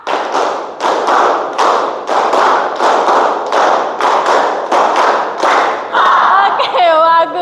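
A classroom of students clapping in unison during a learning activity, loud, near bursts of synchronized claps repeating in tight groups, followed at the end by a brief voice.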